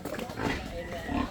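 Pigs on an organic farm lot in Cebu City, Philippines, grunting close by in a short burst under a person speaking.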